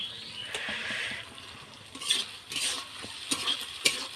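Masala with chopped tomatoes and a splash of water frying in a pot for chicken curry, a steady soft sizzle broken by repeated scraping stirs and light clinks of a spoon against the metal.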